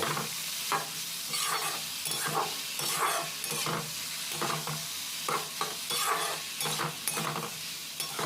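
Potatoes fry in a pan for Bengali alu bhaja, a steady hiss of sizzling oil broken by frequent rhythmic spatula scrapes and stirs, close and fairly loud.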